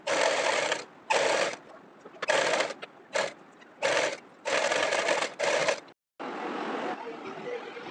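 Stitching a double seam on Afghani pants with a sewing machine, which runs in repeated loud bursts of rapid needle chatter with short pauses between them, ending in one longer steady run.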